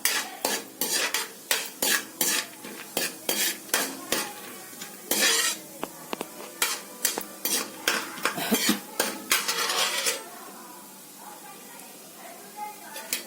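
Lentils frying in ghee for malai laddu are stirred with a metal spoon in a pan, giving repeated scraping and clinking strokes over a soft sizzle for about ten seconds before the stirring stops and the sizzle fades.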